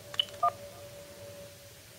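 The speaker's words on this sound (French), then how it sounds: "on tape 1 sur le clavier du téléphone pour commencer les tests" Two short telephone keypad tones beep in quick succession, clean and electronic, over a quiet room hum.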